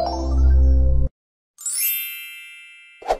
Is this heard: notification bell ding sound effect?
yes